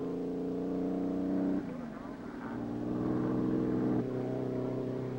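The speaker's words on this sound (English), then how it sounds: "Here's a roadster with homemade rocker arm heads, and it goes." Hot rod roadster engine with homemade rocker arm heads at the 1951 Bonneville speed trials, a steady rumbling drone whose pitch shifts twice as the engine changes speed.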